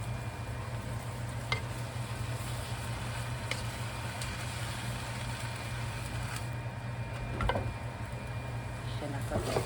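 Pancit noodles sizzling and being stirred in a pan on a home stove, a steady frying hiss with occasional utensil scrapes and clinks, close and continuous.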